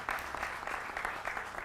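Studio audience applause on a Hindi TV news debate show welcomes a guest, a brief burst of dense, steady clapping that runs throughout.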